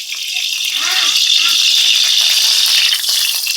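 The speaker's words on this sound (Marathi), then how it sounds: "तर कढईमध्ये आता मी तेल टाकून देते." Cooking oil pours into a kadai pan with a steady liquid splash and hiss, continuous and close, filling the whole stretch without pause.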